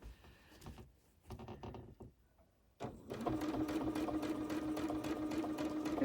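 A sewing machine free-motion quilting a border runs in short stuttering bursts at first, then settles into a steady, loud continuous hum close by, with no talking.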